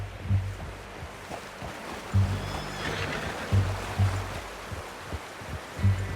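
A horse whinnies faintly in Red Dead Redemption 2 over a bed of rhythmic, heavy low thuds recurring every second or so, with a soft wash of ambient noise underneath.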